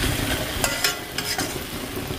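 Curry sautéing in a pan gives a moderate sizzle, broken by a few sharp scrapes and clinks as a utensil stirs it, with no voices.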